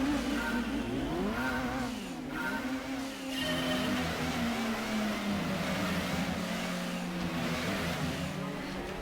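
A Super Mazda car's engine in a racing video game, a continuous buzzing drone whose pitch rises and falls with revving and gear changes, loud and unbroken throughout.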